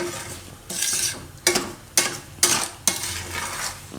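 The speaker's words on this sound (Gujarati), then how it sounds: "આને આપણે ધીરે ધીરે આ રીતે હલાવતા રહેવું એટલે ખાંડ ઓગળવા માંડશે આ રીતે." Strawberries and sugar being stirred in a pan for strawberry sharbat, a spoon scraping in several slow, even strokes with sharp clinks against the metal.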